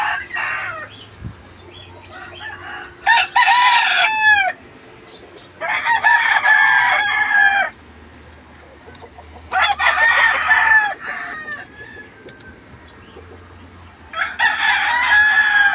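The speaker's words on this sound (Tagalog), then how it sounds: "Grabe mga manok." Chickens and roosters crow loudly in repeated bursts, with clucking in between, close by at a rural yard; the crows come in four long calls spread evenly across the stretch.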